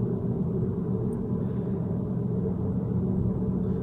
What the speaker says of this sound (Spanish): estáis escuchando un ruido de fondo, que es porque le he hecho cruce de rodas al coche